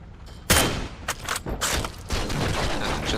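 Sniper rifle fire in the video game Heroes and Generals: one loud, sharp shot from a scoped rifle, followed by a few further bursts and a rumbling battlefield din that runs on with no voices.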